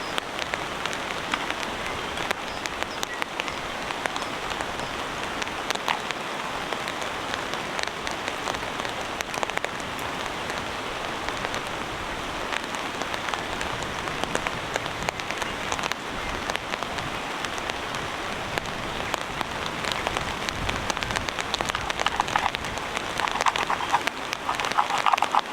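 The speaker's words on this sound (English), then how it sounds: "I love the fact the rain is coming and going." Steady rain patters on a camp in a solo camping trip, a continuous dense hiss of drops hitting surfaces that holds even and fairly close throughout, with no talk.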